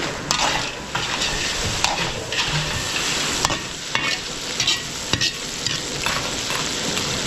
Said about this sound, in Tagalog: mag-start ako sa mix seafood. Yun, butter, bawang sibuyas.